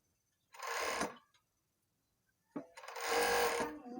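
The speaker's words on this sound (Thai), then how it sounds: "การเย็บประเภทผ้ายืดมันจะจบที่ จักตัวนี้เลยนะคะ เราไม่ต้องไปเย็บอีกรอบนะ ก็คือโพ้งเสร็จก็คือเสร็จเลย" An overlock sewing machine stitching stretch fabric for a dress, heard in two loud, close whirring bursts separated by a brief silence.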